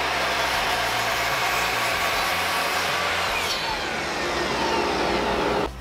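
A miter saw slices through a 1x10 pine-style board for a bookshelf, a loud, continuous whining roar lasting several seconds that cuts off abruptly at the end, with no talk.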